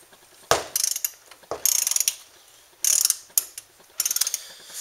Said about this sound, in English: See, it already clicked. I'm actually going to go one more click.